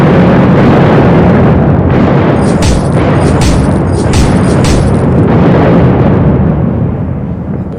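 Loud, heavy bomb blasts rumble continuously through a battle scene in a dramatized audio story. Dense booms and bursts overlap, with sharper cracking impacts in the middle and a rolling roar that fades slightly at the end.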